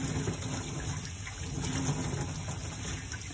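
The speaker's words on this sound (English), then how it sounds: "So I'm just gonna rinse it a couple times" Continuous rushing water as a paint roller is rinsed under running water, a steady gushing wash with no breaks, moderately quiet and close.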